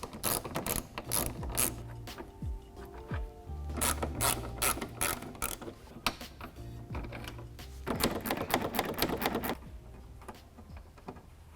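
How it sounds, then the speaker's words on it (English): Rapid ratchet clicking in repeated bursts as a 10mm headlight nut is backed off on a 2021-2022 Ford F-150 with factory halogen headlights, close and crisp, with short pauses between runs and no talk. "there's one more 10mm nut that's hidden back in here that you're going to want to pull out as well"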